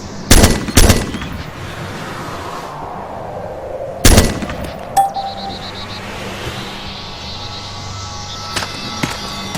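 Rifle fire in the video game ARMA 2: Operation Arrowhead, with a quick pair of sharp shots, a pause, then another single crack, each trailing into an echoing tail over quiet ambience.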